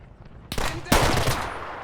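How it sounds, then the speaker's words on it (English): Gunfire from the Combat Mission Red Thunder video game: a sharp burst after quiet, then a second loud volley of rapid machine-gun shots fading out. "Why are you shooting, guys?"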